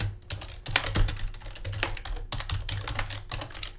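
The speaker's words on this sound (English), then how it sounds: "She's doing the typing, by the way, which is why we're taking about a day." Bursts of keystrokes on a computer keyboard, close and fairly crisp, typing in quick uneven runs with a few heavier thumps and brief gaps, no speech.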